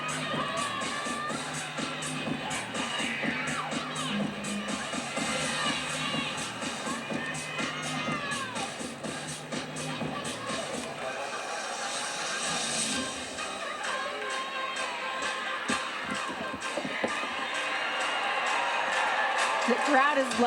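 A crowd at an Oklahoma vs Utah women's college gymnastics meet cheers and claps along during a floor routine, with a steady roar and backing music, while a commentator talks over it.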